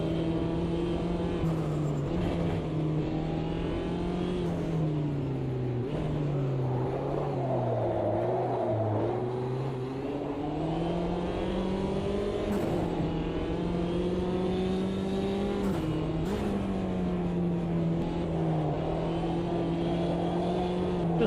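A racing car engine in a sim racing game drones steadily near and loud, its pitch rising and dipping with throttle and gear changes throughout, with no talk over it.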